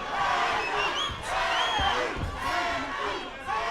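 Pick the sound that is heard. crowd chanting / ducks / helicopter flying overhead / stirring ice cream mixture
crowd chanting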